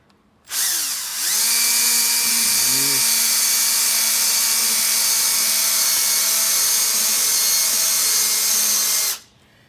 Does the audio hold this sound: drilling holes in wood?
yes